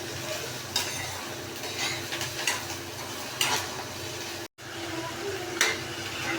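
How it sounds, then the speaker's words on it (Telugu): Onions and mutton keema fry in a pan, giving a steady close sizzle with scattered stirring scrapes and light ticks, briefly cutting out for an instant near the end. "సో మనం దీన్ని తీసుకెళ్ళి దాంట్లో వేసుకొని మనం ఫ్రై చేసుకోవాలండి"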